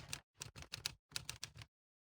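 Typewriter keys clack in a short, quick burst of about a dozen crisp strikes in the Reverse 1999 video game, clustered in uneven groups with brief pauses, then silence.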